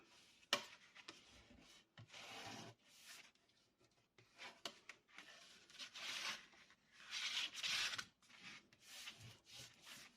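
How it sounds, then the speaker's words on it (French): A bone folder presses and rubs over a paper collage on a scrapbook album page, giving soft, close, scratchy strokes in irregular bursts, quiet throughout and without talking. "je fixe mon collage avec mon plioir"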